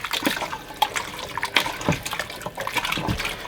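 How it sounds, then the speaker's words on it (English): Water pours into a pot of canned chopped tomatoes for a batch-cooking sauce, a steady splashing, trickling flow with a few brighter splashes, close and moderately loud, with no talking. "Fill one of them back up with water and add some water as well."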